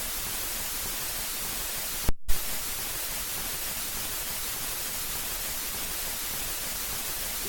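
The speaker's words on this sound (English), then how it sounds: "There's the lovely waterfall." Waterfall in the ZX Spectrum game Lost World, a constant hiss of white noise rushing at an even level, briefly cutting out for a moment before resuming, no voices.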